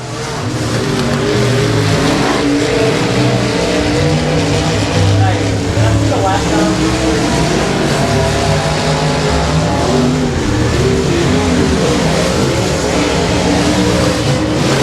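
Oval modified race cars roar through a heat race lap at a dirt speedway, a loud continuous engine drone with shifting pitch as the pack circles, an announcer talking over it throughout.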